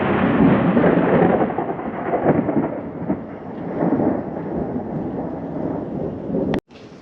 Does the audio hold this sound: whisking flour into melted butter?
no